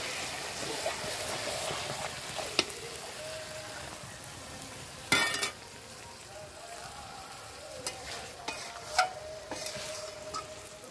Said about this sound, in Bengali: সব কিছু দিয়ে মাংসটাকে ভালো করে কষিয়ে নেওয়া হচ্ছে।